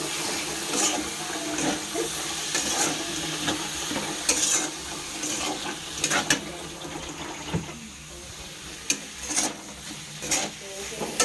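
Rice being stirred with spices in a pan over low flame for vegetable taheri, a steady scrape-and-sizzle texture with scattered spoon knocks, moderately close and continuous.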